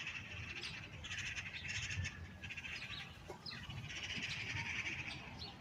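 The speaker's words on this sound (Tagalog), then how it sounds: "maririnig mo lang yung mga huni ng ibon, giniginaw siguro sila." Birds chirp and call continuously on a cold, snowy morning in Ankara, Turkey: many bright overlapping tweets from nearby and farther away, steady across the whole stretch with no talking.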